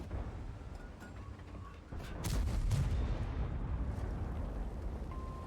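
Video game gunfire cracks out in a loud burst just past two seconds and then runs as a sustained roar of shots and blasts over a steady background bed, played on Linux at high settings.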